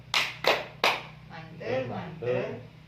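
A group of women claps a rhythmic 'tepuk mantul' pattern: three sharp claps, then softer patter while a voice chants along.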